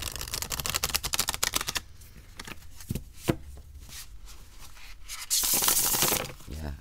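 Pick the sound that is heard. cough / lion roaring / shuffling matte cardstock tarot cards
shuffling matte cardstock tarot cards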